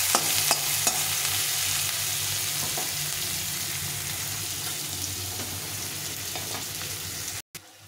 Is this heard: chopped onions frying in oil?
yes